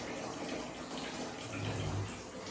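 Tap water running, likely into a tub or basin, a soft continuous gush with a slightly fuller splash in the middle.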